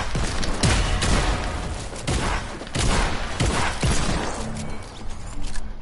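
Shotgun blasts in a video game, a series of loud, sharp booming shots spaced about a second apart, with clatter and mechanical noise between them.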